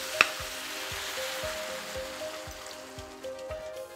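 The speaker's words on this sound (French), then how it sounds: "Maintenant je vais ajouter l'acide, le vinaigre." Vinegar poured into a hot pan of pumpkin coated in honey and spices for a pumpkin chutney, giving a soft crackling sizzle with a sharp tick at the start and faint rhythmic knocks underneath.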